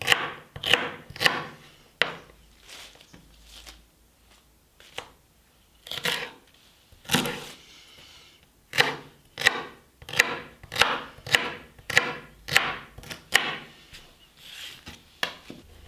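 A knife chops the green outer stalks of celery on a cutting board in a steady run of crisp, sharp strikes, a few short pauses between bursts.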